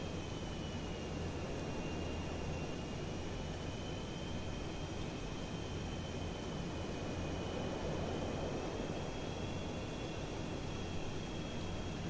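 A video-game airplane streaks in fast toward a runway to land, a continuous loud roaring whoosh of engine noise with a steady whine, sustained and even throughout with no voices.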